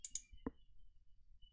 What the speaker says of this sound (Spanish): clic al botón Aceptar